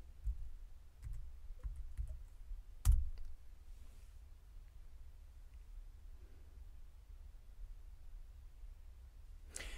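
A few faint, scattered key clicks on a computer keyboard as a passcode is entered, with one louder tap, in an otherwise quiet room.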